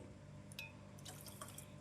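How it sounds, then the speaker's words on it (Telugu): Water poured into a pot of foxtail millet, a quiet trickle with a few drips and a brief splash, faint and close against a steady low background hum. "ఇప్పుడు మనం దీంట్లోకి వాటర్ని యాడ్ చేసుకుందాం"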